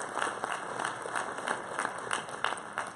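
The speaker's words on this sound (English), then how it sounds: "let's give everybody a round of applause that was involved there" Audience applause at a varsity athletic awards ceremony for Claysburg-Kimmel, a steady wash of many hands clapping across the whole stretch, moderately loud and fairly even, with no voices on top.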